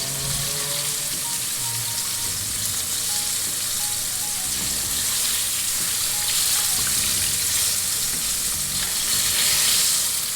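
Continuous loud sizzling and crackling of cube steak frying in a pan, with faint utensil clatter throughout and no talking.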